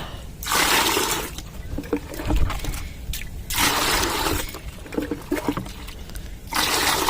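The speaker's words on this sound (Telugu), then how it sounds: "మనం పది లీటర్ల వాటర్ పోసుకోవాలండి చూడండి" Water is poured into a container, about ten litres in all, in several long splashing pours separated by short pauses, close and fairly loud.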